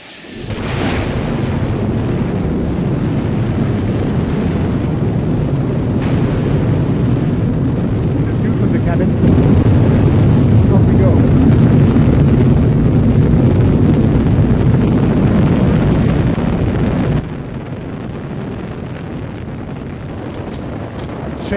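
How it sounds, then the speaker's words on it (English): Space shuttle launch from main engine ignition through solid rocket booster burn: a loud, continuous, deep roaring rumble that holds steady for about twenty seconds, with a voice narrating over it. "this is the way a mission of the space shuttle starts, from main engine ignition until separation of the boosters"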